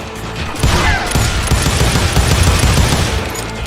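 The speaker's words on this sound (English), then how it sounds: "They're shooting in the street." Loud bursts of gunfire and rapid overlapping shots ring out in a street shootout in a Western shooter game, with a dense volley starting after a brief lull.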